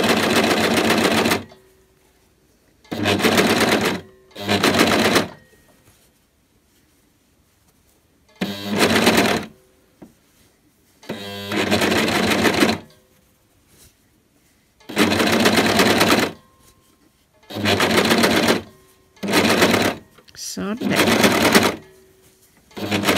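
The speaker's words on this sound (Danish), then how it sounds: "så skubber symaskinen, eller overlockeren undskyld, mere stof ind" An overlocker sews ribbing onto stretchy fabric for DIY trousers, running in about eight loud bursts of fast, steady whirring and stitching, each a second or two long with quiet pauses between, with no talk over the machine.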